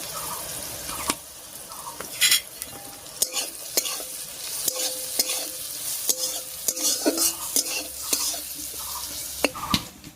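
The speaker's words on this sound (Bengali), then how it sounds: "হলুদ লবণ দিয়ে বেগুনটা খুব ভালো করে মিশিয়ে নিয়েছি। এই অবস্থায় বেগুনটা ভাজা ভাজা হতে থাক" Eggplant frying in a pan while being stirred with salt and turmeric gives a continuous sizzle broken by repeated sharp scraping and clacking strokes of the spatula, close and fairly loud, with no talking.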